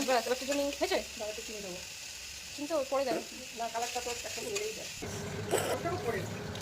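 Spices sizzle and fry in a pan while being stirred, cooked down for a katla fish curry, with a steady hiss and intermittent scraping beneath speech.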